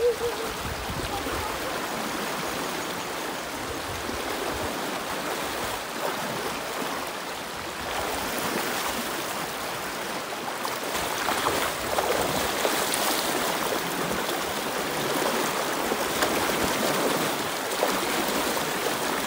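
A river flows steadily past a riverside motorcycle campsite, a continuous broad rush of moving water heard close and unbroken, with faint voices in the background.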